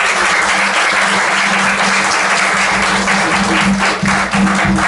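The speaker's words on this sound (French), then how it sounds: "Merci et demandez toute cette assemblée pour applaudir" A church congregation applauding during a Sunday service, loud dense clapping that holds steady for the whole stretch over a low steady hum.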